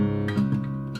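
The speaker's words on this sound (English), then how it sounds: "Here's a great chord, by the way." A chord rings out on a solid mahogany acoustic guitar, recorded with small cheap mics; the sustained tone is moderately quiet and close, with a fresh strum near the end and no talk.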